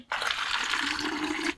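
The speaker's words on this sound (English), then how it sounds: "now let's add the rest of our warm water" Warm water pouring steadily into a bottle for homemade raspberry soda, a close, continuous gushing splash that starts abruptly and holds evenly for over a second.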